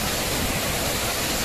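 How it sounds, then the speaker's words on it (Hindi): Water pours down a waterfall in Mussoorie, heard from right inside it as a loud, continuous, even rush of splashing water with no pauses. "इस समय मैं बिल्कुल झरने के अंदर में हूँ"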